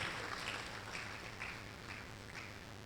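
Warm audience applause at a university ceremony for the Vice-Chancellor of the University of Lagos, a steady, dense wash of clapping that holds evenly throughout without voices.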